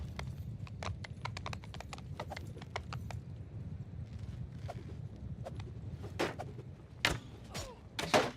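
Hooves clip-clop steadily over a low rumble in a medieval bandit-lord strategy game, a rapid run of hoofbeats giving way to sparser, louder thuds and a few sharper knocks near the end.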